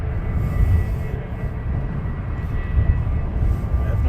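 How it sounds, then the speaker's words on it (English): An EasyJet airliner taxis out at Luton Airport, giving a steady, loud low jet-engine rumble and roar that holds through the whole stretch without a break. "We have another EasyJet taxiing out"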